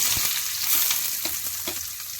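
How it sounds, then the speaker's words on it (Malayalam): Coconut pieces fry in hot ghee for pazham pradhaman, a dense, loud, crackling sizzle with light stirring scrapes throughout a short stretch free of speech. "കുറച്ച് നെയ്യ് ഒഴിച്ചു അടു നെയ്യ് ചൂടായി അതിലേക്ക് തേങ്ങാക്കൊട്ട്"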